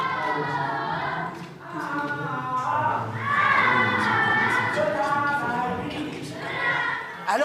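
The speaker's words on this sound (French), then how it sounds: "le bruit de la fête commence à alerter les voisins" Noisy party gathering in an apartment with many voices, children shouting and cheering in overlapping excited bursts, loud and close, swelling and fading across several seconds.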